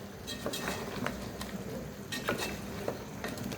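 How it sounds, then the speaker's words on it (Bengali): Chicken being stirred with ground spice paste and whole hot spices in a pot, giving a steady sizzling, scraping texture with a few louder scrapes of the spoon. "এবার আরেকবার ভালো করে নাড়াতে হবে"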